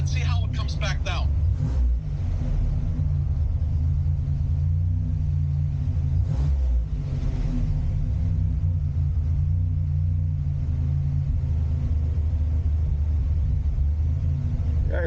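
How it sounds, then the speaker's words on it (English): A Buick Grand National engine runs with a steady low rumble, holding fairly constant rather than clearly rising and falling, with a voice speaking briefly near the start. "Go ahead and just rev it and see how it comes back down."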